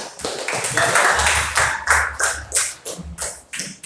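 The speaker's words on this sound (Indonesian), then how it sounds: "Tepuk tangan." Claps in a classroom lesson about Islamic scholars in Indonesia, a short burst of several sharp, uneven hand claps from a few people close by, thinning out toward the end.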